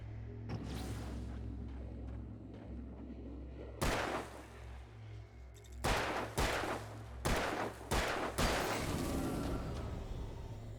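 Gunshots in the video game Alan Wake: a single loud blast, then a quick series of five sharp shots a second or so apart, close over a low ambient drone.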